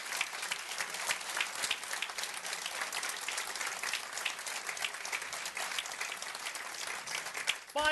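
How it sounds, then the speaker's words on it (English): A crowd claps steadily and continuously, a full even round of applause that carries through without pause. "Give him a round of applause."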